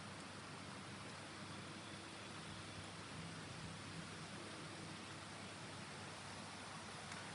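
Rain falls outside as a steady, faint, even hiss throughout, with no voices.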